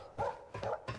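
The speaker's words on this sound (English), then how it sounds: "You're a doggy." A dog barks three times in a steady rhythm inside the video game Sherlock Holmes: Crimes and Punishments, each bark fairly close and moderately loud against a faint background.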